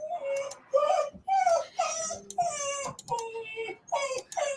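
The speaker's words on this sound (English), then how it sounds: "I think the puppy still needs to go out a little bit longer than she realized." A puppy whimpers and whines in a series of high, wavering cries with short pauses, close and fairly quiet, as though wanting to go out.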